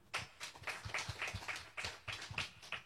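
Rhythmic hand clapping from a congregation during a church worship service, steady claps at a brisk beat, moderately near with no talk over it.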